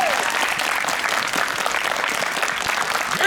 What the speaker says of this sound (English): Can we get another round of applause for the Murray brothers?